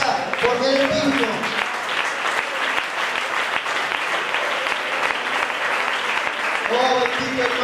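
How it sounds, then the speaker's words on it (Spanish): A church congregation applauds at a worship service, a dense steady clapping that fills the space for the whole stretch, loud and sustained without letting up. "Si es para él ese aplauso, hágalo con fuerza, porque él es digno."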